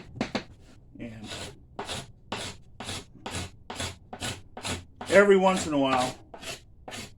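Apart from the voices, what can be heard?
scraper scraping hickory self bow wood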